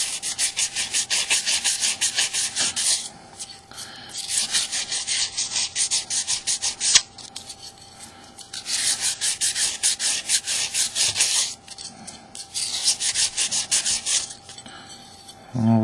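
Repeated back-and-forth sanding strokes on a stainless steel fixture, working it to a brushed nickel finish; loud, close abrasive rubbing in bursts of a few seconds separated by brief pauses, no talking.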